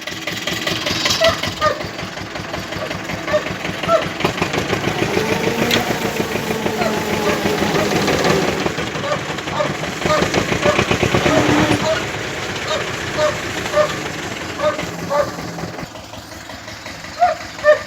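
A small homemade tractor engine chugs and knocks close by in a forest, its rough idle rising and falling with load as it bogs down, with a few faint voices.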